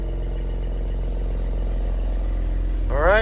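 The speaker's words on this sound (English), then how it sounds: "Gotta burn that new exhaust out of this thing." A Cadillac ATS-V with a new exhaust, downpipes, fuel cam and E85 fuel system idles close by in a steady low rumble, and a brief rising vocal whoop breaks in at the very end.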